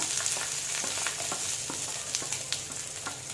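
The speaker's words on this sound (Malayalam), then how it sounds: "കടുക് പൊട്ടിയിട്ടുണ്ട്. ഇനി നമുക്ക് ഉള്ളി ഇട്ട് കൊടുക്കാം." Onion frying in hot oil in a pan after mustard seeds have popped, for a Kerala tomato drumstick curry: a steady close sizzle with scattered small crackles and pops running throughout, with no talking.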